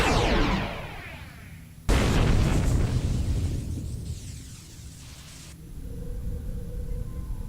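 Nanite torpedo launched and detonating in the space game Star Trek Online, with a loud rushing blast that cuts in abruptly, then a long rumbling roar that fades into steady low ambience.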